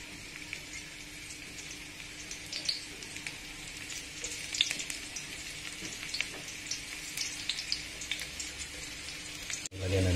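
Garlic frying in oil for chicken feet adobo gives a steady, fairly quiet sizzle with faint crackles and occasional soft clinks, continuing alone with no talk before a brief knock near the end.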